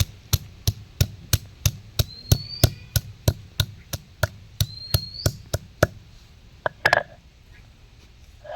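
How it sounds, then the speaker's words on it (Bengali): Ginger is crushed on a grinding stone in a home kitchen, giving a run of about twenty sharp, evenly spaced stone-on-stone knocks, followed by a brief pause and a few scattered clatters. "এখন বেটে নেবে আদা"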